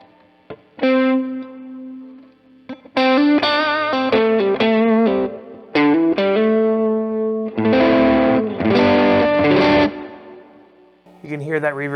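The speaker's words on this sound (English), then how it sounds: "You can hear that reverb is still nice and lush on top of it." Electric guitar played through a modded Fender Blues Jr. amp with lush reverb, loud single notes and ringing chords in bursts separated by short decaying gaps, clean with a spacious tail.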